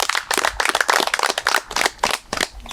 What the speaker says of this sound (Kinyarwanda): Yego ndumva twamuha amashyi.